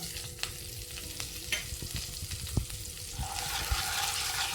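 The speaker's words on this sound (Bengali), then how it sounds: "এবার আমি মশলাটাকে একটু হালকা করে ভেজে নেব" Spice paste of chili, green chili and coriander powder frying in a pan for lau chingri, a soft continuous sizzle with scattered stirring knocks and scrapes, brightening toward the end, no talking.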